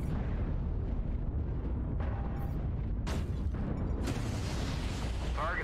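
Artillery strike explosions in the MechWarrior mech combat game, a dense rumbling barrage with several sharp booming bursts over continuous low roar, loud and close.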